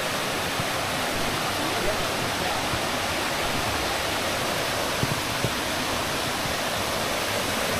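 Steady, dense roar of a waterfall near a Mangyan village in Puerto Galera, a broadband rushing wash that holds even and loud throughout with no pauses.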